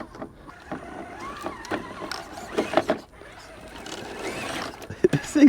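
Enduro Bushido RC crawler motors whine and strain as the truck crawls over rough outdoor terrain, with scattered clicks and a squealing rise at the end, while a person talks over it.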